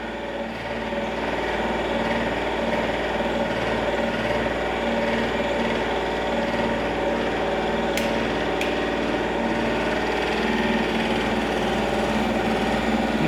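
Electric motor running steadily on a variable voltage and frequency supply, a continuous mechanical hum and whine with faint rattling, holding an even level throughout without talk.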